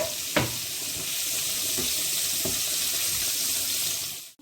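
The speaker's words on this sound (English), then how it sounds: "now, same pan, we are going to cook the pancetta that I have already chopped" Chopped pancetta frying in a pan where cabbage was cooked for a Catalan dish, a steady loud hiss and sizzle with a few sharp pops and clinks, trailing off at the end.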